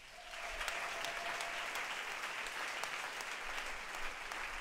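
A church congregation claps in sustained, dense applause that holds steady for several seconds, with a faint voice or tone underneath early on.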